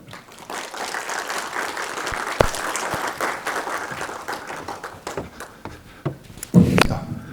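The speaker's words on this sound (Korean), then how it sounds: "큰 박수로 교수님을 모시겠습니다." An audience applauds to welcome a professor at a statistics academy lecture on AI history, a steady patter of clapping with some taps and footfalls, thinning out near the end as the room settles.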